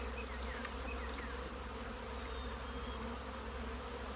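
Honeybees buzz steadily around an opened hive box during a queen castle setup, a dense continuous insect drone that stays close and even throughout with no talking.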